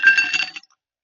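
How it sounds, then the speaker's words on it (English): Ice cubes clatter into a mixing glass for a cocktail, a brief bright clinking rattle lasting about half a second before silence. "So in a mixing glass, we're going to add some ice."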